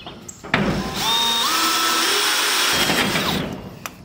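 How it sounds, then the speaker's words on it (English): A power drill whines at high speed as it bores through a thin metal J channel on a barn-style door, a steady grinding drone that starts and stops after a few seconds. "what I do is I drill through the J channel in this piece"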